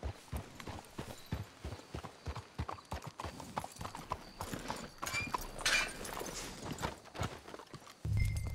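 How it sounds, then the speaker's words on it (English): Horse hooves clip-clop in steady rhythm in Red Dead Redemption II, with an occasional whinny and brief voices mixed in, the hoofbeats close and distinct before slowing near the end. "Let's hitch your horses up ahead."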